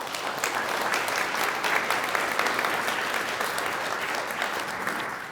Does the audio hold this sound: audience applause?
yes